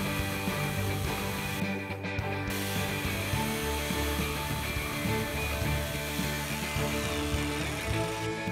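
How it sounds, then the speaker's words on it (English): A power saw blade mills a groove into wood for a guitar rack, a steady loud whining drone with grinding texture running throughout, briefly dipping in the middle. "I use the blade to mill a groove so that I can then do a straighter cut."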